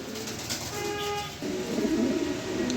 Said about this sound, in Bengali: বিগ সাইজের এক পেয়ার কবুতর যে দেখেন নটটা ডাকাডাকি করতেছে